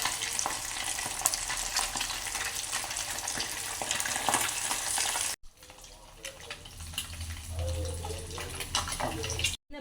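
Food fries loudly in hot oil in a pan at a home feast, a steady, dense sizzle that dips briefly mid-way and returns with bubbling, close and continuous.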